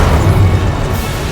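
Incendio fire spell cast in the video game Hogwarts Legacy: a loud, dense roaring whoosh of flame that fills the short moment without letup.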